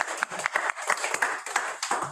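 Seminar audience applauding the speakers, a short burst of scattered hand claps, moderately close, with no speech over it.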